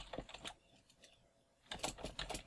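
Java code being typed on a computer keyboard, quiet close clicks in two short clusters separated by a pause, soft and alone.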